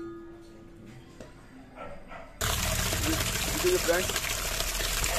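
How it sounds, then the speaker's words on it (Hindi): Water pours from a vessel into freshly ground spicy momo chutney in a home kitchen, a loud, continuous splashing rush that starts abruptly partway through while someone speaks over it. "हम डाल रहे हैं पानी से अभी चटनी में"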